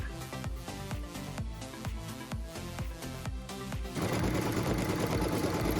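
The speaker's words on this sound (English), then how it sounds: "which is step number 3 on your embroidery machine, is we are watching it stitch the piecing template" An embroidery machine stitches a piecing template with a steady, fast mechanical clatter, close and continuous, becoming denser and louder toward the end.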